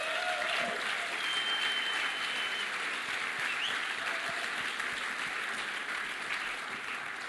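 Sustained audience applause at a YWAM Together 2015 conference session, steady and fairly distant, a dense wash of clapping with no voices on top.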